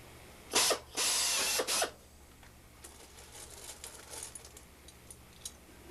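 Cleco pliers insert clecos into holes on an RV6 aircraft wing, giving three quick close ratcheting bursts in succession, followed by softer scattered clicks and taps.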